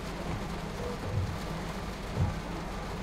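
Steady rain hiss with low thunder rumbles in Train Sim World 2 during a storm, a continuous wash of rain with two brief dull rolls of thunder, no voices.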